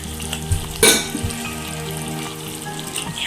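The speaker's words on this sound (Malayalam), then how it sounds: "ഇനി നമുക്ക് നമ്മുടെ ആദ്യത്തെ പാൽ നമുക്ക് ഒഴിക്കാം." First coconut milk poured into a pan of sweetened banana payasam makes a brief splashing sizzle near the start, followed by softer stirring and light clinks of utensil against the pan.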